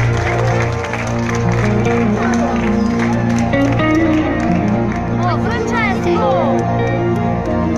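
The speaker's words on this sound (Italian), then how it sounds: "Ragazzi, fate l'applauso agli sposi" A wedding serenade crowd in San Felice claps loudly and continuously for the newlyweds. The dense, steady applause is mixed with cheering and overlapping voices and music.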